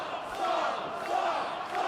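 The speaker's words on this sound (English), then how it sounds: "listen to the Nashville crowd, they want a saw" A Nashville wrestling crowd chants in a steady rhythmic roar of many voices, filling the arena at a moderate distance.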